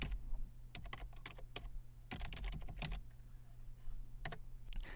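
Fingers type an email address on a computer keyboard in close, quiet bursts of rapid key clicks with short pauses between them. No one speaks.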